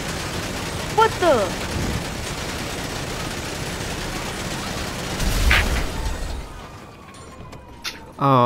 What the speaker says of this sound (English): Oh, I blew up his car.